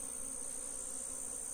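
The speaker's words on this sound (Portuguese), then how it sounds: "Agora vamos transferir as abelhas." Honeybees humming steadily while being moved from a nucleus box into a standard hive box, a continuous, even insect drone with no voices.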